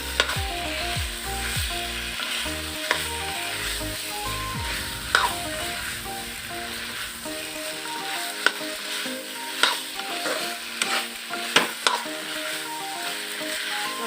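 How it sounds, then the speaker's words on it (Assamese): Watermelon and potato pieces sizzle steadily in a frying pan, with a continuous crackle and repeated scraping stir strokes close by, no voices. "ইয়াত মই এতিয়া তৰমুজ আৰু আলু দি দিছোঁ।"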